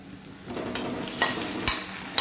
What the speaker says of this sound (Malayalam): അതിൽ നല്ലവണ്ണം ഒന്ന് ഇളക്കണം